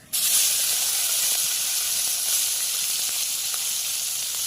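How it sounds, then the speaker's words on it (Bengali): Shrimp dropped into plenty of hot oil in a wok after a black mustard seed tempering give a loud, steady, close sizzling hiss that holds throughout. "এবার আমি চিংড়ি মাছটা ওই তেলেতে দিয়ে দেবো।"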